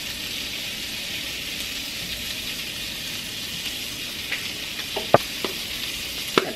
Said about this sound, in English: We're going to toss our onions right in there.